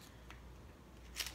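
A quick, crisp snip of scissors cutting through a small candy packet, one short burst near the end over a quiet background.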